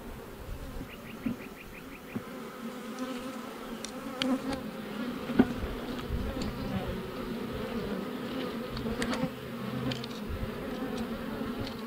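A steady hum of honey bees buzzing around their hive fills the air, with individual bees droning past now and then, close and continuous.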